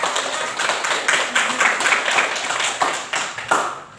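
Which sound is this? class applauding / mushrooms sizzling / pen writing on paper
class applauding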